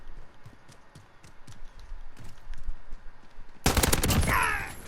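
An AN-94 assault rifle fires in Call of Duty Modern Warfare, with scattered faint shots and clicks giving way to a loud, dense burst near the end.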